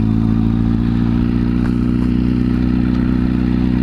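A motorcycle engine hums steadily and loudly while the bike is ridden and shifted up through the gears, a continuous close drone with no talking.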